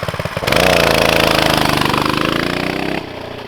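A Tillotson 212R out-of-the-box race engine barks to life and runs loud and close, its pitch climbing steadily for a few seconds before it drops back abruptly.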